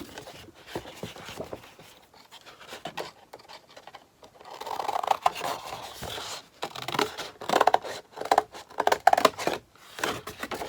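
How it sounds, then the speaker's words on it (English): Scissors cut through corrugated cardboard for a rustic Christmas craft, producing close, uneven crunching snips and scraping that grow louder and more rapid toward the end, without speech. "just trace where I need to cut"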